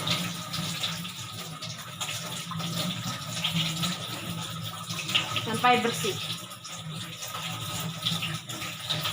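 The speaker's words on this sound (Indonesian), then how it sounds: "Bilas dari ujung kuku sampai ke siku." Tap water runs steadily into a sink as hands and forearms are rinsed from fingertips to elbows during a clinical handwashing routine, a soft continuous splash beneath a person speaking.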